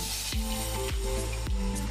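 A drop of batter hits hot cooking oil and sizzles with a brief, close crackling hiss. A few soft thumps mark the short stretch.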